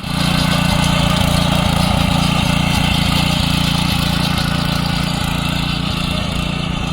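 A small, low-cost power tiller engine runs steadily and loudly at close range, a continuous throbbing drone that holds an even pitch throughout with no speech over it.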